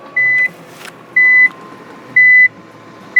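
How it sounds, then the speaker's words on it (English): Reverse warning chime inside the cabin of a Nissan GT-R, four evenly spaced electronic beeps about a second apart, clear and close over a quiet idle hum. "So when we put it into reverse, it beeps like crazy."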